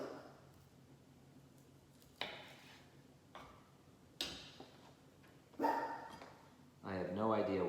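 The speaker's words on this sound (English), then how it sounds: "I have no idea why my dog is barking." A pet dog barks in short, sharp bursts spaced a second or so apart somewhere in a home kitchen. Louder voiced sounds follow near the end.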